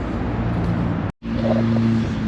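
Busy road traffic near Lac du Bourget: a steady, close roar of passing cars with a low engine hum. The sound cuts out briefly midway, then resumes just as dense.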